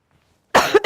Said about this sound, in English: Excuse my coughing and sniffling if you hear me